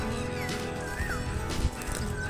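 A mare named Rani, a very gentle horse standing 66 inches tall, makes steady low sounds close by with some clip-clop and a whinny-like tone in the middle, over a busy rural background.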